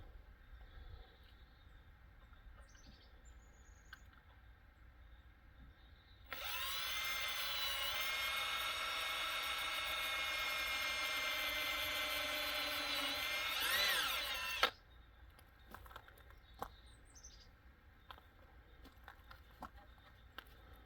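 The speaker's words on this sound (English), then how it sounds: "the outer four holes is what we need to drill" A power drill bores holes through a plastic ATV front rack on a Can-Am XMR1000, one loud steady whirring run of about eight seconds that ends abruptly, with quieter workshop handling before and after.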